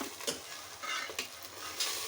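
Popcorn fries in a pan, a dense sizzling hiss broken by several sharp pops and stirring scrapes, close and fairly quiet, with no talk.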